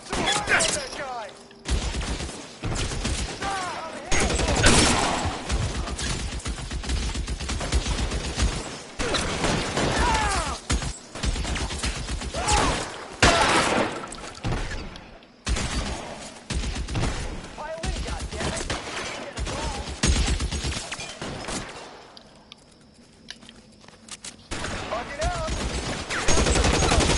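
A shootout in L.A. Noire, with dense, loud bursts of gunfire and rapid volleys through most of the stretch, a brief lull, then more shots, under occasional shouted voices.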